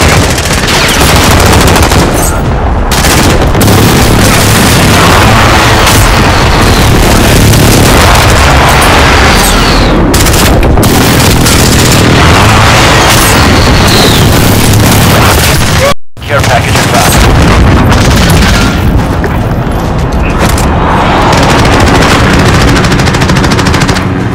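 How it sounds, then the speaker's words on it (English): Precision airstrike explosions roar through a Call of Duty: Modern Warfare battle, a loud, nonstop mix of booms and rapid machine-gun fire with voices mixed in and one sharp cut partway through. "Precision airstrike."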